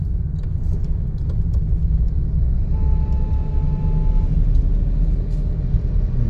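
A car pulling away in second gear during a driving lesson gives a steady, close engine rumble that holds an even drone throughout.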